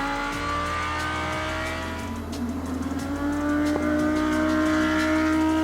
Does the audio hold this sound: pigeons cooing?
no